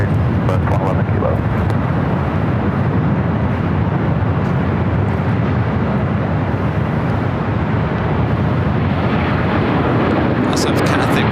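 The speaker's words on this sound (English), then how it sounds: "Also have Cathay Pacific, the 777 rolling down." A Cathay Pacific Boeing 777 accelerating down the runway at LAX, a loud, steady broadband jet roar that holds close and unbroken for the whole stretch.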